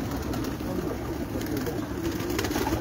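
Prized pigeons on a rooftop loft in Sheikhupura cooing, a soft continuous low murmur of several birds close by, steady throughout without talk.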